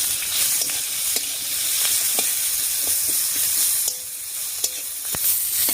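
Nigella seeds, garlic and chopped onion hit hot oil, making a loud continuous sizzle and hiss close by, with scattered stirring clicks and scrapes and no voices.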